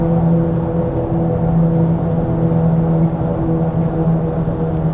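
Super Swamper mud-terrain tires on a lifted Ford Excursion V10 produce a loud, steady low roar and hum on highway pavement, filling the cabin continuously with a droning tonal whine and no voices.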